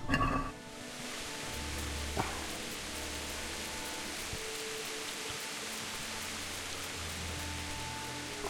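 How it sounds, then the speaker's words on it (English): Rain falls steadily in the medieval video game Kingdom Come: Deliverance, a faint, even wash of patter with a low hum beneath it and no talking. "Rain's definitely coming down."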